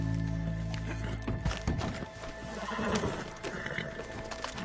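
Horse in Red Dead Redemption 2 neighs loudly, then hooves gallop in a steady clip-clop over background game sounds and music.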